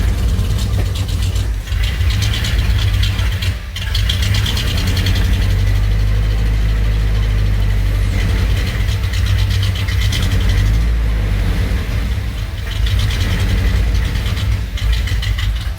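GMC Jimmy K5 engine running after being revived from sitting in a yard, a loud continuous rough idle with surges of revving close by, no voices.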